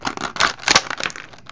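A Pokémon card pack being snipped open with scissors: several quick close crinkling cuts and rustles of the foil wrapper over about a second and a half, with no talking.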